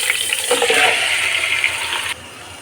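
Spiced beef pieces hit about a cup of hot soybean oil in a pan and fry with a loud, bright sizzle that holds for about two seconds before dropping away to a quieter hiss.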